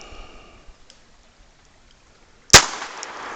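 A single sharp crack from an H&R 22 Model 649 revolver fired outdoors at a target about 20 feet away, with a brief ringing decay after a quiet lead-in.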